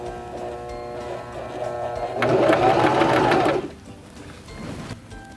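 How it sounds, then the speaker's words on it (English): A Singer Start sewing machine runs a short burst of buttonhole bar tack stitches, a loud steady mechanical whir lasting just over a second before stopping, with quieter hum before and after. "We're going to sew this about 6 to 8 stitches."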